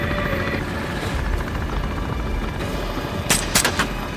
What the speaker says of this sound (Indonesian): Trent kembali melepaskan tembakan untuk memaksa heli itu mendarat